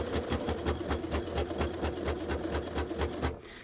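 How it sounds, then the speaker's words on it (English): A sewing machine stitches across appliqué leaves on a quilt, running a steady, rapid mechanical rhythm close up for several seconds before stopping abruptly near the end. "I'm going to stitch all the way across the leaves here"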